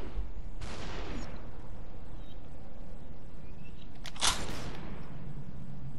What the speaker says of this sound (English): I fired a bullet at you